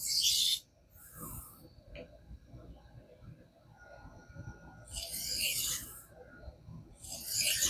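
Knife being sharpened on a King whetstone, bursts of bright, close rasping strokes at the start and the end, separated by a quieter stretch of faint handling and background noise.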